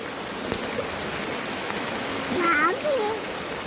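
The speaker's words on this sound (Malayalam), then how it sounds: "വെള്ളം തോടൊക്കെ നിറഞ്ഞിങ്ങനെ വെള്ളം ഒഴുകി പൊക്കോണ്ടിരിക്കുകയാണ്" Steady rushing of a rain-filled stream flowing full, with a bird chirping briefly near the end.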